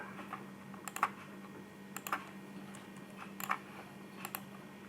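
Bursts of keystrokes on a computer keyboard, short clusters of clicks separated by pauses over a steady low hum, close and fairly quiet.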